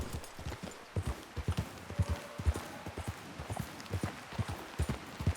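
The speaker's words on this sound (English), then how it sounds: "Get a hold of that horse, Morgan." Rapid clip-clop of horse hooves trotting nearby in the video game Red Dead Redemption 2, a steady rhythmic patter of hoofbeats with a faint voice underneath.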